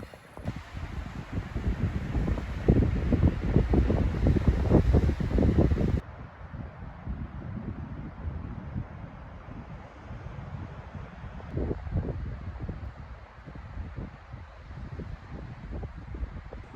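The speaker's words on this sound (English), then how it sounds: "So the wind has picked up quite a bit." Strong wind gusts buffet the microphone outside a camper van parked in a forest, a loud rumbling roar that eases after a few seconds into a steadier, softer rush with occasional stronger bursts.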